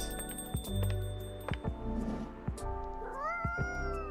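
A cat in Coffee Talk 2 lets out several short, distinct meows in close succession, near and clear, with typing-like clicks and a soft musical backdrop.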